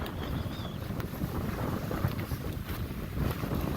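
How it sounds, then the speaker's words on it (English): Strong, cold wind blows across a high mountain saddle on a winter hike in Colorado, a continuous loud roar buffeting the microphone with gusty low rumble throughout. "those winds are making it a wind chill of probably -10 to -15"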